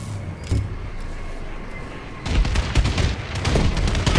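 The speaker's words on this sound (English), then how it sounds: "Friendly bombing run incoming." Explosions from a friendly bombing run in Call of Duty: Advanced Warfare rumble in, first as a single early thump and then as a burst of loud, rapid, overlapping booms and crackling impacts.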